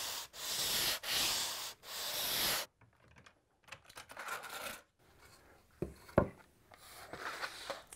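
Sandpaper rubbed along the edge of a sheet of wood veneer in a few quick, loud rasping strokes, then quieter intermittent scratchy rubbing, close up with no speech.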